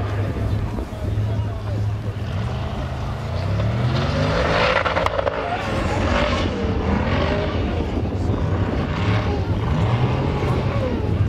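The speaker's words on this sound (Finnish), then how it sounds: "tuo turbo antaa kyllä aika mukava vihelyksen tuohon moottoriin" A loud, revving turbocharged Formula Offroad racing car engine in Finland with a rising turbo whistle, roaring steadily throughout with shifting pitch, while a voice talks over it.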